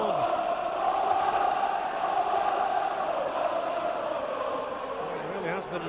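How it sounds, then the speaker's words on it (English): Home supporters singing at a Leeds United first-division match against Chelsea, a dense sustained chant from a large stadium crowd, steady and distant, with no breaks. "And the Leeds crowd only too happy to sing"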